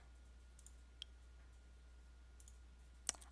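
A single computer mouse click, selecting a link on a journal website, sounds near and sharp at about three seconds, with a few faint ticks earlier over a quiet hum.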